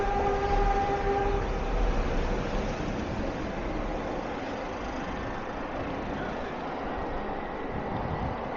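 A SkyTrain passing Paterson station in Burnaby makes a loud, steady rushing rumble with a faint tonal whine that fades early on, heard nearby and without talk.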